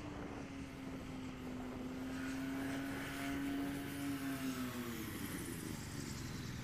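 A propeller-driven STOL airplane flies a long, slow final approach at a practice event in Jennings, Louisiana, its steady engine drone holding level and close for several seconds before easing off slightly.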